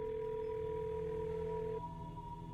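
A phone line rings out in the Nancy Drew game Ghost of Thornton Hall: a steady electronic dual tone held for about two seconds, then a softer lingering tone, close and clear with no voices.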